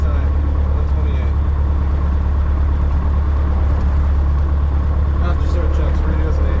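A small aircraft engine idling at 1,000 RPM just after start on a freezing January day, a steady loud drone with faint cockpit noise over it.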